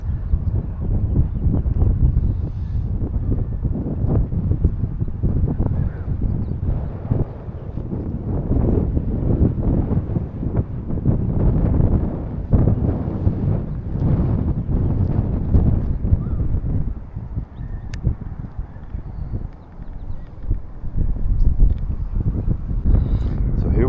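Strong wind buffets the microphone on an exposed hilltop in Grandview Park, San Francisco, in steady, rumbling gusts, loud and continuous throughout with no talking.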